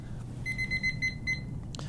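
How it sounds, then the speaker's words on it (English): A stretching-session timer lets out a string of short, bright electronic beeps, five or six evenly spaced, over a faint background hum, with no talking. "Wait for that beep."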